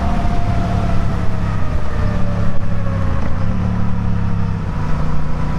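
A Royal Enfield Interceptor motorcycle engine drones steadily while riding, a loud, continuous low rumble with slight pitch dips as the throttle eases, heard alone against wind noise.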